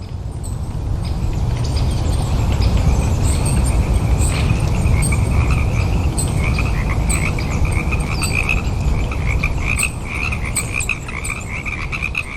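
Frogs in Loveland, Ohio, croaking in a dense, overlapping chorus of repeated calls, loud and close, sustained throughout with no voices.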